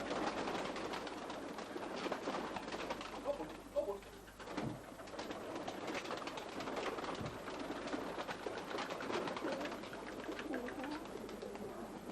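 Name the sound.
racing pigeons cooing in loft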